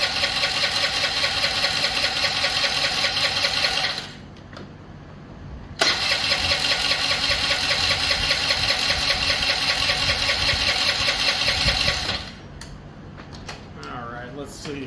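A 2003 Honda Elite 80 scooter that sat unused for 15 years, with its air box removed, starts and idles loudly and unevenly, cutting out briefly before catching again, then dropping to a rough, wavering idle with faint talk.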